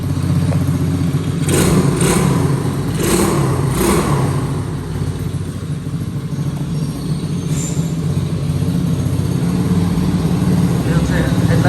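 A four-wheeled ATV quad bike engine runs close by with a steady, buzzing motorbike-like drone and a few sharper surges early on, while someone talks over it.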